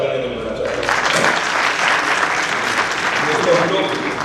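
A voice trails off before loud applause breaks out at an AICPWDEA general body meeting, the full-room clapping swelling quickly and holding strong to the end.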